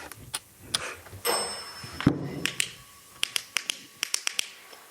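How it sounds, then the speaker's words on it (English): Sharp, clicky raps arrive in scattered clusters, several quick knocks close by in an old infirmary building, with a few louder thuds mixed in and no talking over them. "I just heard a knock"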